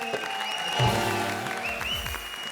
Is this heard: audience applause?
yes